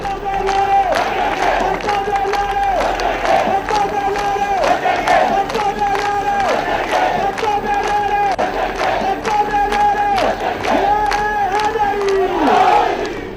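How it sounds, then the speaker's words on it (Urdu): Party supporters of Benazir Bhutto at a Pakistani political rally chant enthusiastic slogans as her speech ends, a loud massed crowd shouting in a steady call-and-response rhythm, whistles and cheers mixed in throughout. "حسب معمول خطاب کے اختتام پر جیالوں کے پرجوش نعرے"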